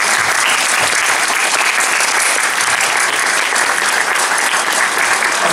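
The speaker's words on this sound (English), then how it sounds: "Big round of applause, guys." An audience at a Doctor Who Q&A panel at the Scifi Wales 2017 convention claps loudly and steadily, a dense, continuous round of applause that fills the room from start to finish.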